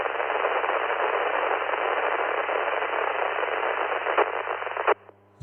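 Steady loud hiss of radio static from an amateur radio repeater system, continuous for several seconds before cutting out abruptly near the end, followed by faint low hum.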